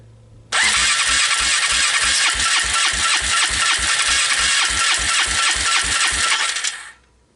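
Polaris Trail Boss 325 ATV engine cranked with no choke catches and runs loud and close, a fast throbbing single-cylinder putter for about six seconds before cutting out and fading.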